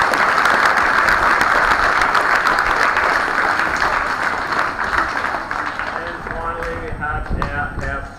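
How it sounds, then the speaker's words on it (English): A school crowd at a Kelso State School parade claps steadily in a dense round of applause that gradually thins and fades toward the end, with a few voices audible underneath. "We give those guys a round of applause now,"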